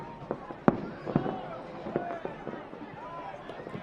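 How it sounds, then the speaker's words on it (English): Distant fireworks pop and crack in scattered bursts beyond the stadium during a Las Vegas Lights FC vs. El Paso Locomotive FC soccer match, under a commentator's talk and faint crowd noise. "Hear the fireworks now in the distance beyond the stadium"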